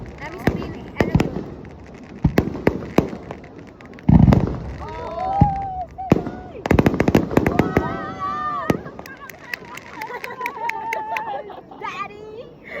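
Fireworks go off at a summer festival (matsuri with hanabi), sharp bangs and crackling bursts popping irregularly at a distance while people nearby talk and exclaim throughout.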